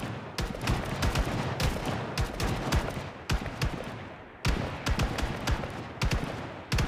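Bandits fire rapid bursts of gunfire at zombies in Project Zomboid, with sharp shots coming in clustered volleys and brief gaps between them, close and loud throughout.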